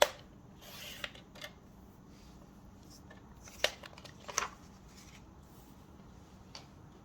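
A few sharp snips from scissors trimming paper for a junk journal, spaced unevenly and close to the mic against a quiet room.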